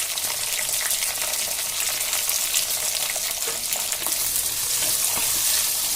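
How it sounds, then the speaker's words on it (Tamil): Onions and tomatoes sauté in hot oil with popping mustard seeds for a radish sambar, a loud continuous sizzle with crackles and a few stirring scrapes, no voices. "இப்போ வெங்காயம் தக்காளி இதெல்லாம் போட்டு நல்லா வதக்கணும்"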